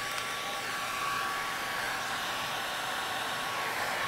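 A heat gun blows steadily on 3M Di-Noc architectural vinyl wrap film over a cabinet door, a continuous close whooshing roar of air that holds level throughout with no voices.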